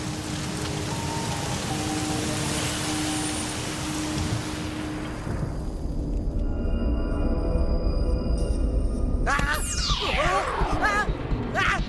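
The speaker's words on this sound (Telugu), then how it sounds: "వర్షం ఎలాగో పడాల్సిందే." Steady rain hisses down for several seconds, then gives way to a low rumble with sweeping electronic tones.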